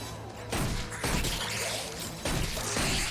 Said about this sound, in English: Those sound like gnolls.